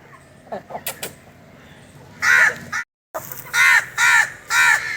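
A crow caws close by, four harsh calls in a loose rhythm, after a few faint clicks and rustling.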